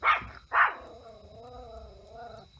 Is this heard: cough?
no